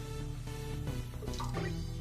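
Water poured into a pan for semolina halwa, a steady liquid splash and trickle running continuously and fairly loud over a low background hum, no voices.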